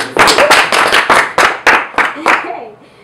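Several sharp hand claps in an uneven rhythm, loud and close, with voices underneath.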